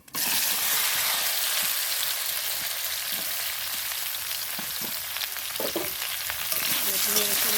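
Peeled amla gooseberries fry in hot oil with lightly tempered spices for an amla pickle, a dense, steady sizzle that stays loud and close throughout, broken by faint stirring clinks and no talking.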